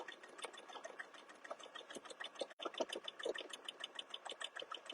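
Domestic sewing machine stitching steadily during free-motion quilting of a Valentine's themed quilt, a fast even mechanical chatter with one brief pause midway, close and alone.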